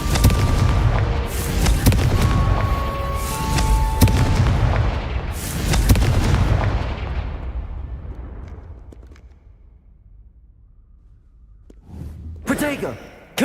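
Confringo spell explosions in the video game Hogwarts Legacy, several loud booming blasts with long rumbling decays, a later burst near the end, with a voice speaking over the game sounds.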